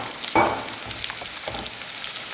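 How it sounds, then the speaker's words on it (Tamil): Onions sizzle in hot oil in a pan as the base for kara kuzhambu, a steady close crackle broken by a couple of brief stirring scrapes, with no voices. "வெங்காயம் வந்து நல்லா பொன்னிறமாக வதங்கட்டும்."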